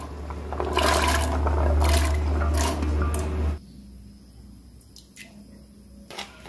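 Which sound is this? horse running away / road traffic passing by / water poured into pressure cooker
water poured into pressure cooker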